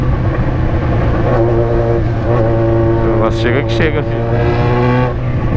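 Car exhausts rev loudly and steadily nearby, with a few sharp pops and crackles partway through, while people talk over the engine noise.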